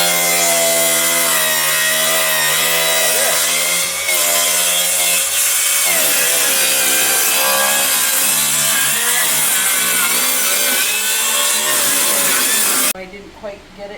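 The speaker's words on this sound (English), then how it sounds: "Then you're gonna put the saw against the edge of the 2x4." Saw cutting through a wooden 2x4 during basement window bump-out work, a loud, steady rasping drone that runs nearly continuously up close before stopping abruptly near the end.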